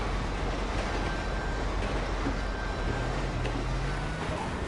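A train passes in the video game GTA Online, heard as a continuous heavy rumble and roar that stays steady and dense throughout, with no voices over it.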